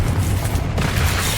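A Confringo fire spell in Hogwarts Legacy goes off as a short, heavy booming explosion with a rumbling low end, loud and close.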